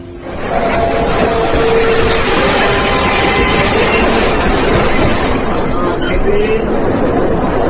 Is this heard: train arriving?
yes